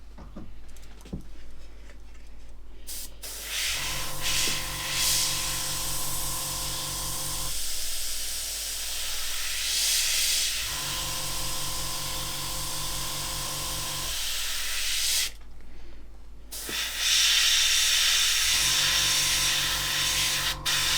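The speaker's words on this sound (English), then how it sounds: "angle your airbrush away from the edge that you're trying to create" An airbrush sprays lacquer paint with a steady hiss that stops and restarts in several bursts. A low, pulsing hum runs under it with a regular rhythm, and it also breaks off and comes back. The sound is close and moderately loud, with no talk.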